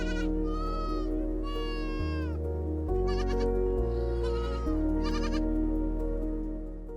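Goats perched up in argan trees in a dry region of Morocco bleat loudly and repeatedly, several calls overlapping close by over a steady low hum.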